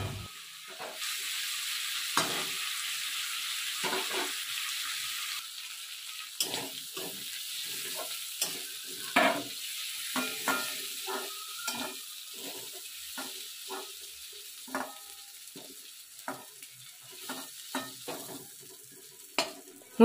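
Prawns fry in oil in a wok with a thin, high, hissing sizzle, broken by frequent scraping and clinking of a spatula against the pan at an uneven pace.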